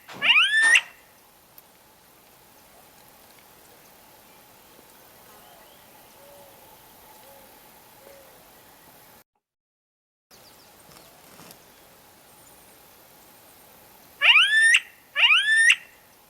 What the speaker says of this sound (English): And we'll play that Ani alarm again.